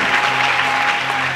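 A church congregation applauds and cheers at a French-language service, with dense, steady clapping and crowd noise filling the room at full volume throughout.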